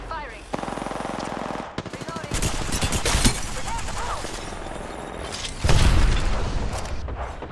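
Rapid automatic gunfire bursts and single shots in the Apex Legends battle royale game, loud and close, broken by a few heavy booms, with talk and game voice lines over the top.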